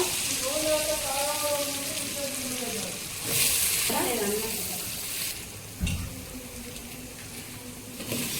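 Potato pieces frying in oil in a pan, cooked alongside brinjal with ginger paste and turmeric, give a steady sizzle with occasional stirring clatter while someone talks over it.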